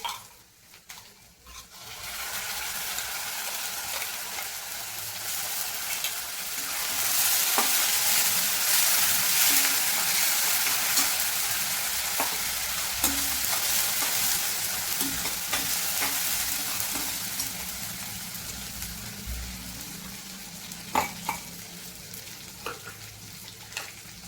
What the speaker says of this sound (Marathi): आता टमाट्याची प्युरी टाकून घ्यायची आहे